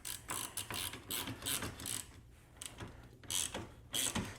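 Socket ratchet clicking in quick repeated bursts while tightening the steering wheel nut on a golf cart, close and crisp with short pauses between strokes.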